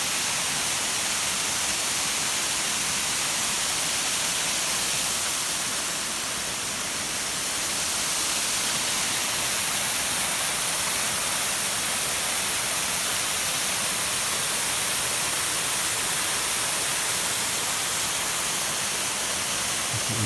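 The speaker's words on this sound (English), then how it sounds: "Right at the top of the falls." Mitchell Falls roars steadily from the top of the waterfall, a dense, constant broadband rush of falling water that stays loud and unbroken throughout.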